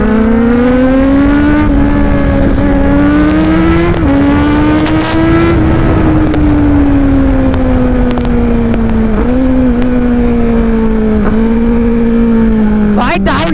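Kawasaki Z900 motorcycles racing, their engines holding a loud, sustained high drone that rises and falls slightly as they rev, up close, with brief bumps and shifts in pitch.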